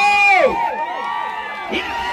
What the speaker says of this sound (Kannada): ಮತ್ತೊಮ್ಮೆ ಜೋರಾದ ಚಪ್ಪಾಳೆಗಳ ಬರಲಿ ಅಭಿಮಾನಿಗಳು